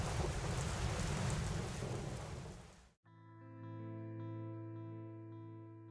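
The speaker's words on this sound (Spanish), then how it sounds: "El agua caía, fiera e incesante" Heavy rain pours in a dense, steady roar for about three seconds, then cuts to near silence before a low sustained tonal drone fades in, with no thunder crack standing out.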